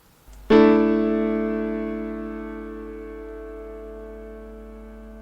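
A single sustained suspended fourth chord in traditional tuning rings out, struck once and slowly decaying over several seconds, with bright stacked tones and a steady low hum underneath.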